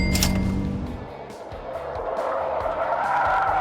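A Suzuki Liana driven hard, its tires skidding and squealing with a loud sustained screech over a strained engine, close and continuous throughout.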